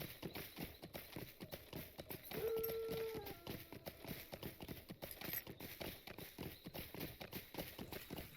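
Horse hooves clip-clop at a steady walking pace in the video game Lord of the Rings Online, moderately close, with a brief tonal game sound partway through.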